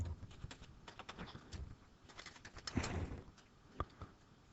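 Computer keyboard typing in quick, irregular bursts of clicks, close and moderately loud, with a few sharper key strikes near the end.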